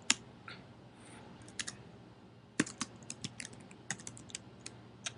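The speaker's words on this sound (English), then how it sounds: "I'll go ahead and type UI button" Code is typed on a computer keyboard, with quiet, close key clicks arriving in uneven bursts and small pauses between them.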